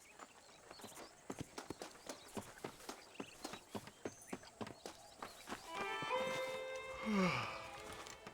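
A horse in the Red Dead Redemption video game on Nintendo Switch walks with a steady, evenly spaced clip-clop of hooves, then gives a loud whinny near the end.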